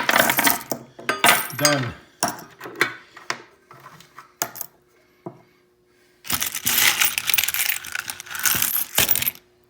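Clad coins from metal detecting poured out into piles, a rattling, jingling metallic clatter that comes in close bursts, with a louder continuous cascade near the end and a short spoken word in the middle.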